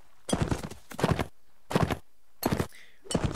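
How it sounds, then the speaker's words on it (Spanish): Horse in the Mount and Blade video game, heard as a run of heavy, rhythmic hoof thuds in four close bursts, fairly loud with no talk. "La velocidad del caballo es esta, ¿vale?"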